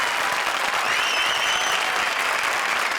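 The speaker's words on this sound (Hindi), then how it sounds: "हमारी चारों भूतिया जोड़ीज के लिए जोरदार तालियां।" A studio audience at a televised comedy show claps loudly and steadily, a dense, sustained wash of applause with a faint whistle running through it.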